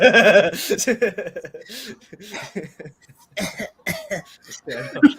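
Several sharp, harsh coughs burst out, followed by throat clearing and chuckling, with voices talking in between.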